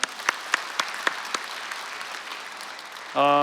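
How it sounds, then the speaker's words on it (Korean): A church congregation claps in applause during a Sunday child dedication service, starting as a few separate distinct claps before settling into a soft, sustained round of clapping, with a sustained tone entering at the end. "우리 하나님께 영광의 박수 올려드립니다"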